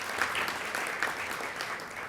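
Audience applause at a university alumni achievement awards ceremony, a steady dense clapping from a large crowd that holds at an even level throughout, with no voices over it.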